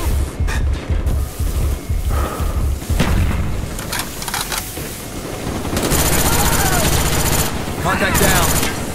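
Gunfire in a Black Ops military shooter: rapid bursts of shots and booms dense through the first few seconds, then a steadier roaring wash of battle noise, with soldiers' voices calling out over the fighting.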